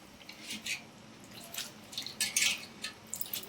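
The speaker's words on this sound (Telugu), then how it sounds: "ఇంకో దాంట్లో వాటర్ పట్టుకొని మళ్ళీ బాగా కడుక్కోవాలండి" Water splashes and trickles in soft irregular bursts, light sloshing and dripping close by, as leafy greens are rinsed in a basin of water.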